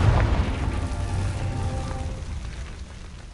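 A Confringo fire spell explodes in Hogwarts Legacy with a deep, heavy boom that rolls into a long, crackling, rain-like fizz and slowly fades.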